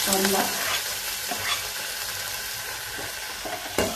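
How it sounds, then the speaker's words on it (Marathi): Onion fries in one to two spoons of hot oil for Malvani prawn curry, giving a steady close sizzle with occasional stirring scrapes and no voices. "कांदा थोडासा परतून घ्यायचा।"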